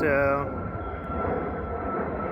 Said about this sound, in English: I'm actually only a few kilometers from the airport, so a few planes flying over